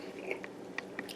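Close, quiet chewing with a few crisp bites and crunches spread across a short moment, no talking.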